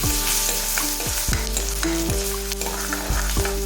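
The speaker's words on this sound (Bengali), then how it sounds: "রসুন কুচি যোগ করে দিয়েছি। এটাকে আমরা মিনিট খানিক ধরে নাড়াচাড়া করে নেব।" Chopped garlic frying in mustard oil in a wok, a bright continuous sizzle with repeated, regular spatula scrapes as it is stirred.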